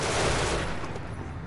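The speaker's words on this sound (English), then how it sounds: "now our defense cannon is working." Ship's rear-mounted defense cannon firing in Genesis Alpha One, a loud close burst of rapid gunfire-like blasts that fades toward the end.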